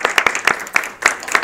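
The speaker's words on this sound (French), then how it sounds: "On va les applaudir," A conference audience at a social selling forum in Toulouse claps to close a session, with loud, close, brisk hand claps packed into a short burst.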